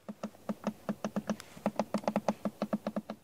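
A rapid series of crisp plastic clicks from a Mazda CX-80's cup holder, evenly spaced and close by, repeating steadily with brief pauses and no talking.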